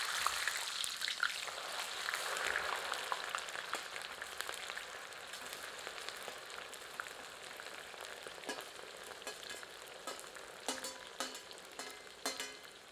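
Okra (bhindi) frying in a generous amount of oil, a steady close sizzle with soft crackles and occasional stirring scrapes toward the end, heard alone.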